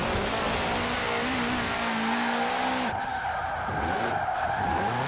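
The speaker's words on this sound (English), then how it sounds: "I'm still getting used to the drifting in this game" A 2005 Subaru WRX STI drift build in Forza Horizon 4 slides with loud, sustained tire squeal over a revving engine, the pitch wavering and then shifting as the skid continues without pause.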